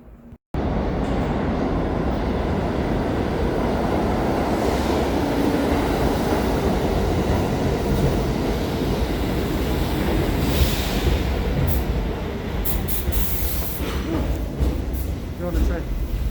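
A New York City subway train roars past at a station during a snowstorm, loud and steady, with brief high-pitched squeals near the end.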